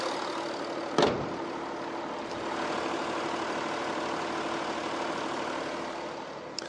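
A steady, smooth 3.0 V6 diesel car engine idle hums close by, quiet like a petrol engine, broadband and even, with a brief thump near the start and no voices.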